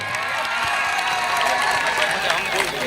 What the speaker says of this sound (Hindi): इसके लिए एक जोरदार ताली आप सबको जरूर बजाना चाहिए